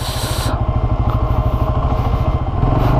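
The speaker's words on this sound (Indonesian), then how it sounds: "ini hari ada kesempatan untuk test ride motor kawan saya yaitu Binelli 150S" A Benelli 150S motorcycle engine idles close by with a rapid, throbbing pulse, a brief hiss at the start, then steady lumpy rumbling throughout.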